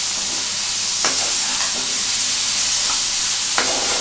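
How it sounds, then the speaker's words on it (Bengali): Boneless chicken with black pepper and ginger-garlic paste sizzles steadily in a hot pan, a constant frying hiss broken by a few sharp scraping stirs of a spoon against the pan. "এবার এটাকে আমি একটু ভালো করে কষবো।"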